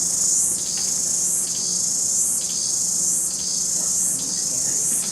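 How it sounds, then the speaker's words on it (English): On a hot summer day, an insect chorus swells and fades in regular pulses about once a second, a constant high buzzing that stays steady and fairly loud with no voices. "in the middle of a hot summer day, we have the cicada chorus"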